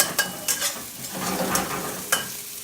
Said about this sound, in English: Just put the mushrooms in. Give this a good stir.